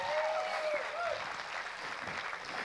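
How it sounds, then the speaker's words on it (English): A crowd at a comedy benefit show claps for the band in a steady, even round of applause, with a faint whistle or cheer near the start. "Give the band another round of applause."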